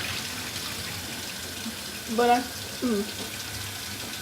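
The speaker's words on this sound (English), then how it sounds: "the water is now clear. This is after, I think that was the 4th rinse." Tap water running into a sink while rice is rinsed, a steady faint wash of flow with a couple of brief louder splashes near the middle; a single short spoken word sits in the clip.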